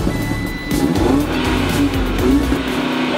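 Audi RS3 car engine revving loudly with rising tire squeal, a steady close roar throughout with brief squealing sweeps and no talk.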